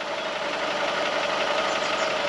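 A VW Polo engine idles steadily after a MAP sensor replacement, a smooth, even mechanical hum with a faint regular knock, close and continuous throughout.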